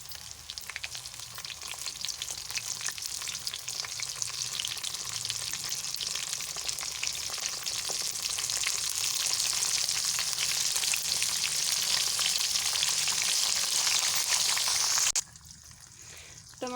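Onions, garlic and tomatoes frying in a pan for a sohanjna gosht curry give a steady, close, dense sizzle that builds slightly louder before cutting off abruptly near the end.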